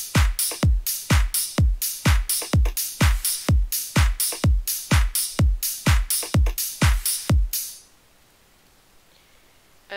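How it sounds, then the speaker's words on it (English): Future house drop drums programmed in FL Studio, with a thumping four-on-the-floor kick under bright, bouncy hi-hats, playing loud and steady for about eight seconds before cutting to near silence. "And the drum patterns together just sound like this."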